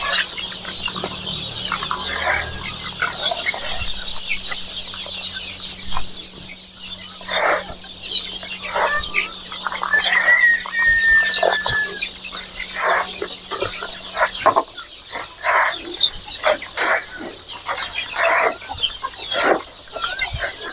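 Desi chickens and chicks on a farm, with repeated clucks and peeping scattered over the whole stretch, some sharp calls and wing flaps, a faint mechanical hum early on and occasional voices in the background.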